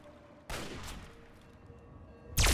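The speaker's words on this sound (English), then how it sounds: "Oh wait, who's shooting at me?" Video-game gunfire in a mutant-filled swamp wasteland, two sharp shots roughly two seconds apart, the first moderately loud, the second louder and closer, over a low ambient hum.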